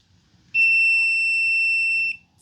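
A continuity tester gives one steady high electronic beep of about a second and a half as its probes touch a wire, close and clear against a quiet background.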